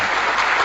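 Applause from an audience at a live Catalan podcast-style show, a dense steady patter of clapping filling the short moment with no voices over it.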